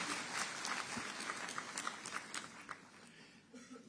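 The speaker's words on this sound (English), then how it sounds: "Let's give our President a round of applause." An audience at a SADC summit public lecture applauds Zimbabwe's President, a faint, distant round of clapping that thins out and tapers over a few seconds.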